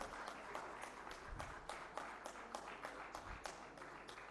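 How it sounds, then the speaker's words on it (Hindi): Applause welcoming Punjab Chief Minister Charanjit Singh Channi at a live stage event, faint and steady with rhythmic clapping pulses. "पंजाब के मुख्यमंत्री चरणजीत सिंह चन्नी का जोरदार तालियों के साथ स्वागत कीजिए।"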